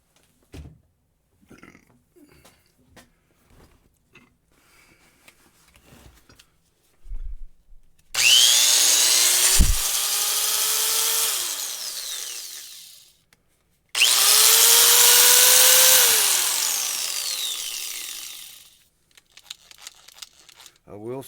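A Warrior 4.5-inch, 4.3-amp corded angle grinder powers up twice, each time a loud, close, high whine that runs several seconds, then winds down with a falling pitch. Quiet handling noises come before and between the runs.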